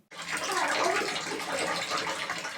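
A thin stream of brown water runs steadily from a tap in an apartment building, giving a continuous close splashing rush that holds evenly for a few seconds without speech.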